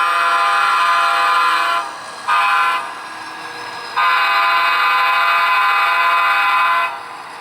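A switching locomotive crossing a street during yard switching in Huntington Beach sounds its horn loudly and up close, in long sustained blasts with two short breaks, no talking.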